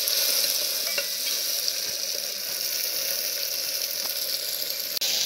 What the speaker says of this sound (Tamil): தக்காளி போட்டு நல்லா வதக்கலாங்க.